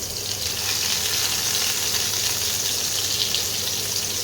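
Stuffed eggplant frying in hot mustard oil, a steady close sizzling hiss that stays even and continuous for several seconds, with no voices.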